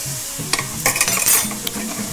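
A tablespoon of garlic added to a pan and stirred, with a soft steady sizzle under sharp utensil scrapes and clinks against the pan, several quick knocks in a short burst.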